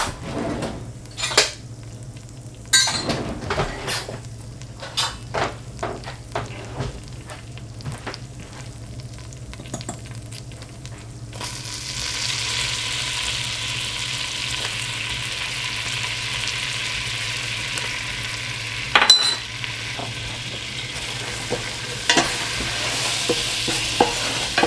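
Butter and flour are stirred in a reused pot for a cheese sauce, with sharp spoon clinks against the metal first, then a steady frying sizzle under continued stirring scrapes.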